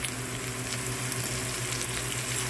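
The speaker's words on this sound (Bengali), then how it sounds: "এখানে একটা ফ্রাই প্যানে নিয়েছি, তেল দিয়ে দিয়েছি, এখন এখানে পেঁয়াজ দিয়ে দিব এবং পেঁয়াজটা একটু ভেজে নেব" Onions frying in oil in a frying pan for a chicken filling, giving a continuous, even sizzle with a light crackle and no talking.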